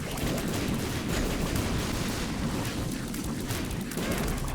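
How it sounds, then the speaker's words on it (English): Explosive tears rain down from Ultra Greed in The Binding of Isaac: Repentance, a dense, continuous barrage of overlapping booms and crackling blasts that stays loud and unbroken throughout. "he jumps and drops, like, a carpet bomb of tears"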